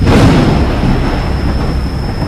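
A thunderstorm at night rumbles loud and close, a broad low roar of thunder with rain noise that slowly fades.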